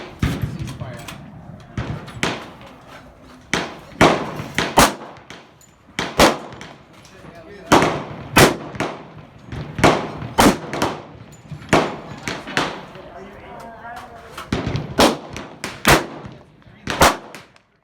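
A CZ527 varmint rifle fires at a shooting range, with a series of sharp, loud, close reports spaced irregularly across the whole stretch, each dying quickly into a brief echo.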